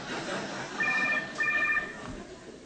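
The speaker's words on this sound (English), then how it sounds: "It's very disrespectful to have a gathering when a cell phone goes off." A cell phone rings during a debate gathering, its electronic tone pulsing in two bursts at moderate distance over low room noise.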